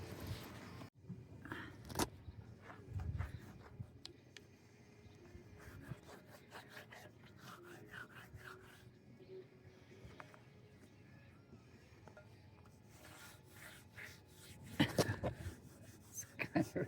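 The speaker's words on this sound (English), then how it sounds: "Maybe if I wax it up," Wax being rubbed onto a skateboard with a big candle-like stick of wax, producing quiet scraping and rasping strokes in irregular bursts, fairly close, with faint talking in the background.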